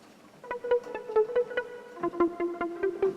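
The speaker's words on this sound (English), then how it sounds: "kind of a pluck sound with some reverb" A Prophet synthesizer plays short plucked notes with reverb tails, a steady run of about a dozen tones shifting to a lower register halfway through, alone and clear.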